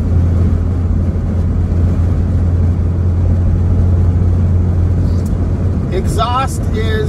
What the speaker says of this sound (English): But a super nice sounding exhaust.